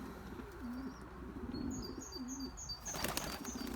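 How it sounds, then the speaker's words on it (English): A wild pigeon arrives with soft repeated cooing, a brief flutter of wings and a few chirps, heard at moderate distance over quiet outdoor background, ending in a burst of broadband rustle. "one of the wild pigeons just came to say hello"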